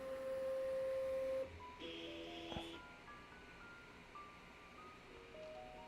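A Sovol SV08 3D printer homing its sensorless XY axes, giving quiet stepper-motor whines that hold steady tones, shift pitch and stop as each axis moves, with a short tick partway through, heard alone with no talk.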